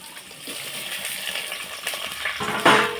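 Chopped tomato goes into a pan of well-sautéed onions for a village-style cowpea curry, with a soft sizzle building and then a sharp clattering splash near the end, close-up and without speech.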